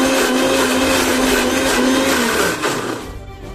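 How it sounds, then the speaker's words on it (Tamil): A kitchen mixer grinder blends a homemade hair pack mixture, a loud steady motor whine running close for a few seconds before the pitch drops and it winds down. "இப்போ அரைச்சிக்கலாம் நம்ம."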